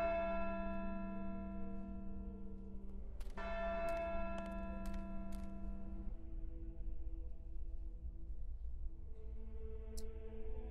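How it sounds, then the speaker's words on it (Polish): Church bells from the video game Syberia 2 toll over a sustained tonal hum, several struck notes ringing out in the early seconds, then a softer strike near the end, with no talk. "O, i mamy dzwony."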